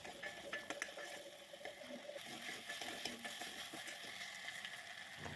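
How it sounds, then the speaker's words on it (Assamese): Spice paste of ginger and garlic frying in a pan for a shrimp curry, giving a steady soft sizzle and bubbling close by with faint stirring, no voices. "এতিয়া জোখমতে নিমখ দি ভাজি লৈছোঁ। খুব ভালকৈ ভাজি ল'ব লাগিব।"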